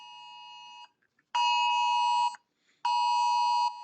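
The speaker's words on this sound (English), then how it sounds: "Some sort of an emergency alert. Oh, an Amber Alert?" An Amber Alert emergency tone blares in three long, loud, steady electronic bursts with short silent gaps between them, harsh and close, with no speech.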